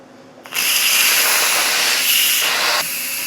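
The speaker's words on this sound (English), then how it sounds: "we're going to move the knob on the back of the unit from sealing to venting." An Instant Pot cooking baked apples is switched to quick release. Steam bursts out of the vent knob as a sudden loud, sharp hiss that holds steady for a few seconds, then drops slightly in level.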